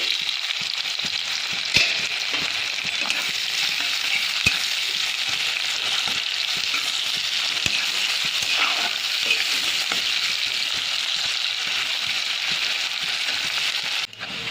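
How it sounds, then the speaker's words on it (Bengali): Chopped onions sizzle in hot oil in a pan, a steady close frying hiss with occasional crackles and spatter, no talking. "তেল গরম হয়ে গেছে সবার আগে পেঁয়াজটা ভেজে নেব"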